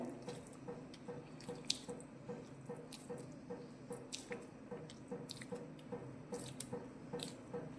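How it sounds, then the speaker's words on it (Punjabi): Fresh homemade butter, churned from cream, is squeezed and washed by hand in cold water, giving soft wet squelches and scattered drips that are close but faint, with no talking. "ਇਹਨੂੰ ਫੇਰ ਆਪਾਂ ਪਾਣੀ 'ਚ ਪਾ ਲੈਣੇ ਆ ਤੇ ਦੁਬਾਰਾ ਆਪਾਂ ਫੇਰ ਇੱਕ ਪਾਣੀ ਨੂੰ ਕੱਢ ਲੈਣੇ ਆ"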